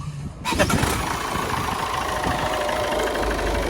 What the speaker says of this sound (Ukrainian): Дуже м'якенько завівся двигун.